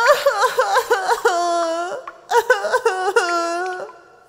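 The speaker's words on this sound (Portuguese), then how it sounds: "Ele ouviu uma criança chorando." A cartoon child wails and sobs inside a giant fish's stomach, loud and close, in two long crying stretches broken by hiccuping gasps.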